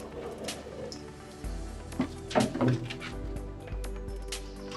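Door on a boat being opened, a few wooden knocks and creaking clunks over a low steady rumble, close and moderately loud, with no speech.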